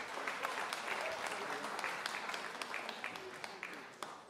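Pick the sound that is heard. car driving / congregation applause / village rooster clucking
congregation applause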